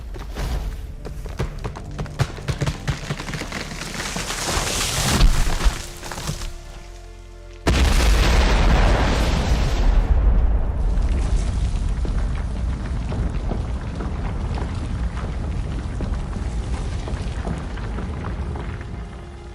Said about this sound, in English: The beanstalk fell, bringing down the giant with a thud